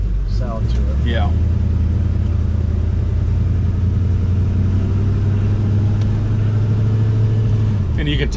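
A 1965 Chevy Nova with an automatic transmission and a brand-new exhaust system idles with a loud, steady, deep rumble that holds evenly throughout, with a brief higher whine near the start.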